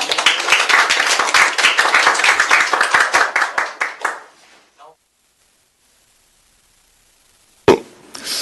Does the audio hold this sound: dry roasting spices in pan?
no